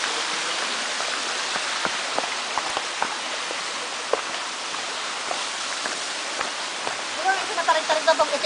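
Steady broadband rush of a brook flowing at Mair Park, continuous and fairly close, with light spatter and a few faint bird calls near the end; no clear talk over the water.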